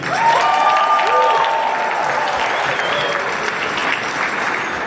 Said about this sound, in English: Clap if this is not your first time in this space.